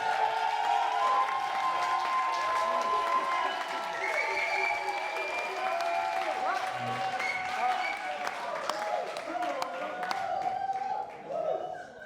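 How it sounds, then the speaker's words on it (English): Wedding guests applaud the best man at a reception, steady clapping filling the room for most of the stretch before tapering off at the end, with some cheering and voices mixed in. "let's please give John a massive round of applause"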